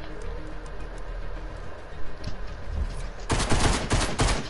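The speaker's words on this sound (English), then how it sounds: "Someone's shooting." Burst of rapid gunfire in a video game, loud, dense, overlapping shots after a stretch of quieter ambient background.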